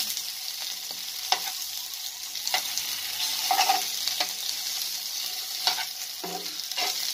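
Okra and pieces of potato chop being stirred in a pan with panch phoron, a continuous close sizzle punctuated by several distinct spatula scrapes at irregular intervals, with no talk.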